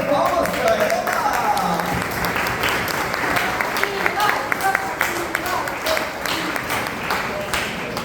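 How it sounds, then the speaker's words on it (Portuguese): An audience applauds during a Catholic prayer gathering as a Dominican sister is welcomed, producing a dense, sustained wash of clapping at close range that continues for around eight seconds. "palmas para ela!"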